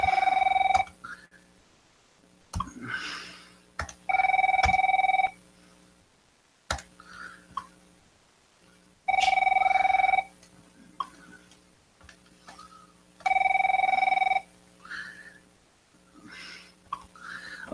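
An office phone system rings in repeated electronic bursts, four strong rings of about a second each spaced several seconds apart, with softer clicks and beeps in between; no one speaks.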